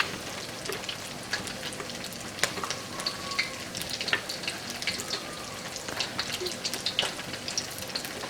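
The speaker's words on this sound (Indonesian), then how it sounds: "Siapkan penggorengannya dan taruh semua yang sudah di blender" Blended spice paste fries in oil in a pan with a steady, close crackling sizzle, punctuated by occasional scraping stirs and small pops, with no talking.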